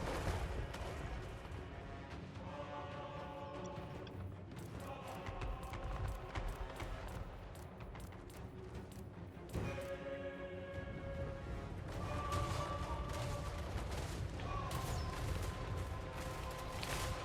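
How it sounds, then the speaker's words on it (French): Battle gunfire and cannon fire from troops storming a fort, a dense continuous din of shots and booming blasts with crackling bursts throughout, loud and busy, no voices. "Les tirs faisaient rage, les canons fusaient."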